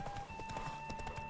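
Horse hooves clip-clop in a quick steady gallop rhythm as a rider travels in The Witcher 3, with a sustained musical tone underneath.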